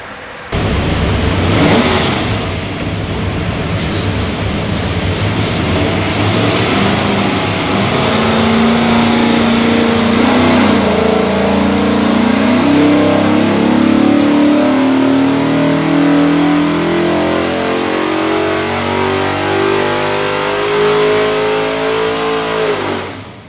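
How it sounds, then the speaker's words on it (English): An all-aluminum 427 cubic inch small-block Ford V8 for a 1968 Mustang roars loudly on a dyno, revving steadily higher through a long sustained pull with a rising engine tone. "We'll go in there and make a run,"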